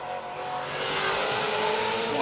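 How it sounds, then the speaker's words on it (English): A Maserati Trofeo MC race car on the Goodwood Festival of Speed hill climb, its engine roaring loud and close in one continuous, slightly wavering blare as the throttle is feathered through a left-hand bend. "Wonderful noise as the driver's feathering the throttle to keep some traction around this nasty left-hander"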